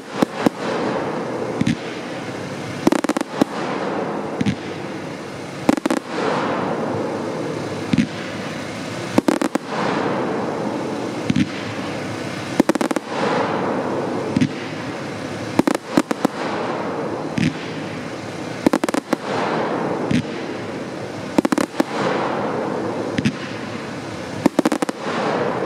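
A Dominator 100-shot fan-shaped white strobe mine firework cake fires in a long rapid sequence of loud sharp bursts, each followed by crackling strobe fizz, the volleys coming in waves for nearly half a minute.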